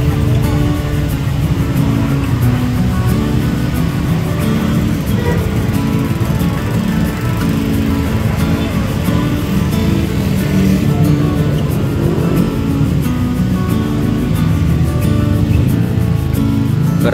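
A convoy of three buses, two Dewi Sri and one Sinar Jaya, pulls out of a night-time roadside terminal at Pasar Petarukan, a loud continuous rumble of heavy diesel engines close by with busy ambient noise throughout.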